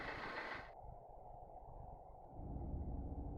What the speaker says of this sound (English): That's our own engines.